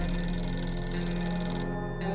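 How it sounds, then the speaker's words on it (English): A telephone rings in 60 Seconds! Reatomized, a steady electronic trill with a constant tone that holds for the whole stretch at moderate loudness, with no talking over it. "Day 14 is a phone ringing."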